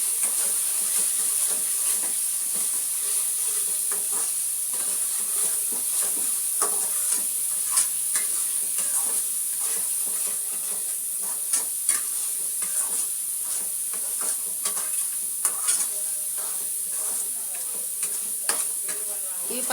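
Masala with turmeric and chilli powder frying in oil for a fish curry, a steady loud sizzle and hiss with occasional stirring scrapes throughout.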